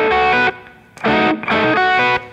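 Electric blues guitar lick played through an Origin FX Revival Drive overdrive pedal, gritty driven notes and a double stop in three short sustained phrases, clear and close with no talking.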